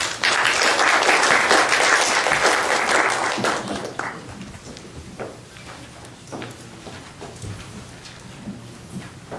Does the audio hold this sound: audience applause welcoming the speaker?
yes